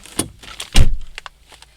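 A car door is shut outdoors in England beside a cemetery after chestnut picking: a single close, heavy thump, preceded by a lighter click and followed by a few faint rattles.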